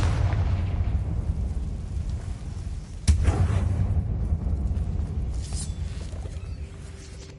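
A Confringo fire spell explodes in Hogwarts Legacy, a sudden boom at about three seconds over a dense, rumbling game soundscape that keeps roaring and slowly fades.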